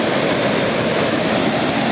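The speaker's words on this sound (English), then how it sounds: "See here, I'm by the river." A river flowing past a bank strewn with washed-up wood, a loud, steady broadband rush of water with no pauses, close by and heard alone.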